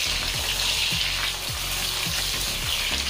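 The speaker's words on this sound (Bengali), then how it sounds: "গ্যাসের ফ্লেম মিডিয়ামে রেখে পটলগুলোকে ভেজে নিতে হবে।" Pointed gourd (potol) frying in oil over a medium gas flame, giving a steady, dense sizzle that runs throughout, with soft low thumps recurring every half second or so as the pieces shift in the pan.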